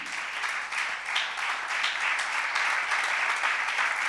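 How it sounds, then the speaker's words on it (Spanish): A church congregation applauding, a fairly distant, even wash of many hands clapping that holds steady throughout with no voice on top. "dale un aplauso al Señor"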